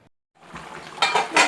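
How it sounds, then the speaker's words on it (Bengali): A spoon scrapes and clinks against a pot while potato curry with ghee is stirred, giving a few quick, fairly close strokes after a moment of silence. "ঘিটা দিয়ে তরকারিটা নাড়ালেই হয়ে যাবে"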